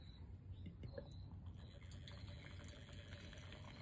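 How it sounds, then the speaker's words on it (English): Wine is poured from a bottle through an aerator fitted on top, giving a faint, steady trickling and bubbling flow of liquid for a few seconds, with no talking. "And then when you pour your wine"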